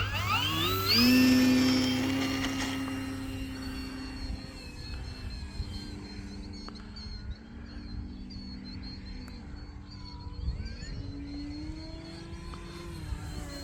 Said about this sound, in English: I love flying this airplane.